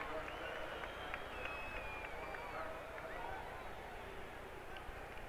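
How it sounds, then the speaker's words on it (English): A football stadium crowd at a 1982 Tampa Bay at Dallas game roars to its feet in a dense, steady, distant wash of cheering that holds level throughout. "And the crowd on their feet."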